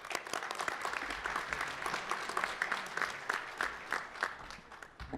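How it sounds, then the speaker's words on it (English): An audience at a legislative forum of Hispanic state employees in Illinois bursts into sustained applause, dense overlapping clapping filling the room evenly for several seconds without speech. "A round of applause."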